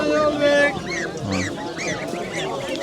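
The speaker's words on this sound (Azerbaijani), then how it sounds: "Bax bu qazlardır." Geese honking at a poultry market in Sabunchu, a few repeated nasal honks rising over a busy background, with people talking nearby.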